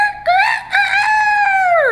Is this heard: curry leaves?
no